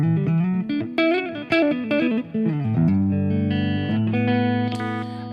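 An electric guitar played through a Fractal rig with light reverb. Sustained, distorted notes and bends ring out loud and close, with a wet ambient tail.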